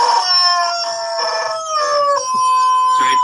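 A chicken crows loud and close, one long drawn-out call with a bright, wavering tone that holds for several seconds, with no talking.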